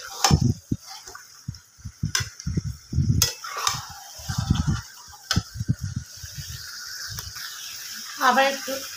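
Chicken and fried potatoes stir-fried in a pan, with soft sizzling and intermittent scraping strokes of a spatula, mostly under a person talking throughout.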